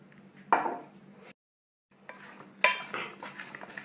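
Vegetables for a baked potato and lamb dish being tossed with paprika, cumin, ground spices and olive oil, with scraping, clattering stirring noises in a bowl, a short pause, then renewed mixing.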